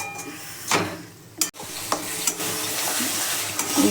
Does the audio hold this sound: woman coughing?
no